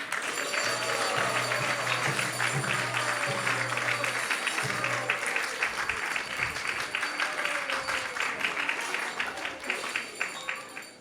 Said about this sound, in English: So we'd like to give a big round of applause and thank our speaker, Anantadev Prabhu.